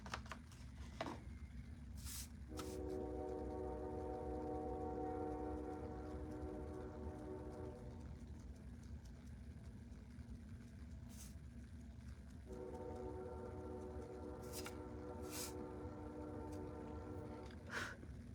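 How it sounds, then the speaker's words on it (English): A train passing by at a distance, with repeated horn blasts sounding in two long stretches over a steady low rumble. Several sharp clicks or knocks cut through it, and the whole scene is faint and without talk. "Can you hear the train? Train's going by."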